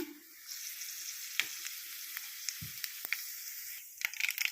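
Steady crackling sizzle of spices frying in hot oil, with occasional sharp pops and a brief stir near the middle.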